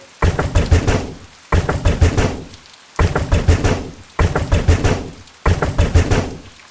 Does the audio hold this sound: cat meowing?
no